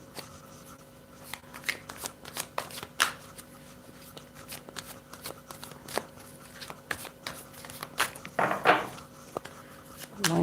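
A deck of cards being shuffled by hand, repeated riffling bursts and soft slaps at close range, fairly quiet with light room noise between them.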